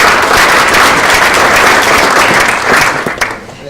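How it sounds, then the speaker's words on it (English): An audience at a university sports panel event gives loud, dense applause that holds steady for several seconds and then tapers off toward the end. "Round of applause for Sean."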